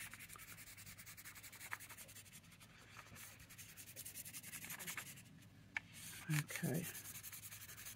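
Paper being rubbed lightly over an inked rubber stamp for flower painting, a soft steady scratchy rubbing that runs throughout, quiet and close, with a brief spoken word and a few louder knocks near the end.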